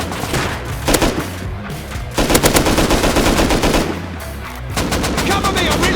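Automatic gunfire in the survival shooter Rust: loud, rapid bursts of shots in several sustained strings with short gaps between, sharp and close.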